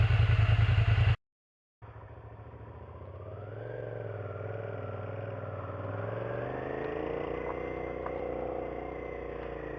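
A Suzuki SV650 motorcycle V-twin with a modified stock exhaust idles steadily after a brief cut, a close, loud, even rumble that rises slightly in pitch as the revs climb a little.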